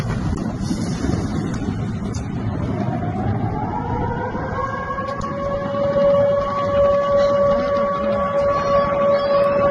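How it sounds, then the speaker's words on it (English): A distant air raid siren over the port of Tuapse during a drone attack slowly rises and holds a steady wailing tone over heavy wind noise and rumble. "as the sirens start to sound"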